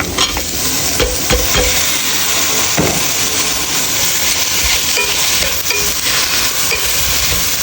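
Tomatoes and green chillies fry in a pan while being stirred, giving a steady loud sizzle with scraping knocks from the stirring spoon throughout.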